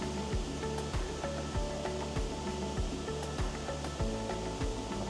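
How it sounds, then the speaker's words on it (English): A waterfall at E`e pours down into surrounding trees, a steady close rushing roar with faint regular clicks running through it. "the waterfall's just falling into the trees"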